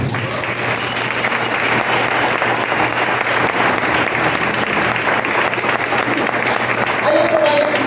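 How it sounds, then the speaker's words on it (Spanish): A church congregation applauds for the Lord in a steady, dense burst of clapping that fills the room, continuing at full strength the whole time. "Den un aplauso al Señor"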